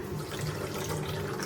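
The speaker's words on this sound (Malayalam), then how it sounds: "ഇനി നമ്മൾ എന്താ വേണ്ടതെന്ന് വെച്ചാൽ വെള്ളം ചേർത്ത് കൊടുക്കുക അതിലേക്ക്" Water poured into a pan of sugar and cardamom to make syrup for milk powder gulab jamun. The pour is a soft, steady trickle that keeps going evenly through the whole short moment.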